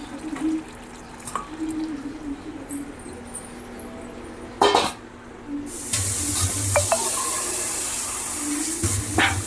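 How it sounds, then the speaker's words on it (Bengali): Water poured into a hot frying pan bursts into a loud, steady sizzle that hisses on for several seconds, following a brief splash and a few faint clinks, with no one speaking. "অল্প একটু জল অ্যাড করলাম।"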